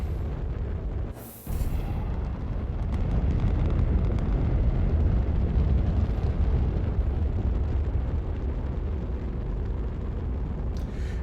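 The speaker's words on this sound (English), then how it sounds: "I mean, it's a very crude bomb. It's a little bit of dynamite and a lot of hydrogen." A crude bomb of dynamite and hydrogen detonates in the game Astroneer with a sharp blast, then a long, heavy roaring rumble that lingers loud for several seconds.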